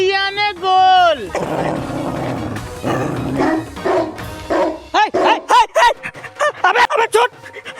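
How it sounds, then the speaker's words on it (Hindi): A dog barks and yelps in a series of sharp, loud bursts after a long howl-like cry, with excited human voices mixed in throughout. "अबे मुझे नहीं, कुत्ते को पकड़, काट लिया उसे"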